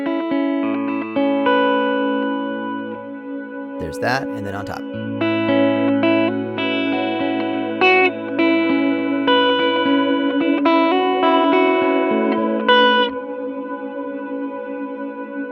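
Electric guitar notes ring out over a sustained, held drone loop from a Chroma Console or Microcosm looper pedal, with a short burst of noisy strumming and a brief spoken remark over the layered, effected tone.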